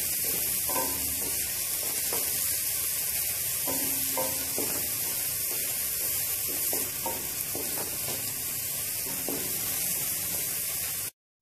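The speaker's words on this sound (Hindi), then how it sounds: "मीडियम साइज़ की प्याज है इसे बारीक चॉप कर लिया है मीडियम फ्लेम पे इसे फ्राई करेंगे" Finely chopped medium-sized onion frying in oil over a medium flame, a steady close sizzle running the whole way with repeated soft stirring scrapes, no talking.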